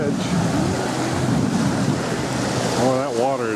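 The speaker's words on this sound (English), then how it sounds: "Here we are at water's edge." Ocean waves washing in at the water's edge of a beach at Honeymoon Island State Park, a steady loud wash of surf mixed with heavy wind noise on the microphone.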